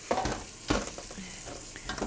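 Lamb chops sizzle and spit in a hot frying pan as their fat renders out, a steady close crackle with a few louder pops and stirring scrapes, no talking.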